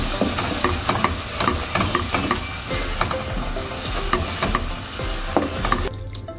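Cooked beef kabiri rice is stirred and tossed in a hot pan with a crumbled Maggi chicken cube, giving a close, rhythmic scraping and sizzling with repeated spoon strokes and no talking.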